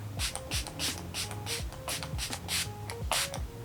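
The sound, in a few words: setting spray being sprayed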